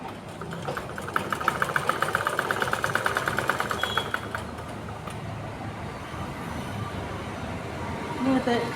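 A sewing machine stitches the seat section of a churidar top, producing a steady, close, rapid mechanical chatter for several seconds before it slows and stops, leaving quieter handling noise.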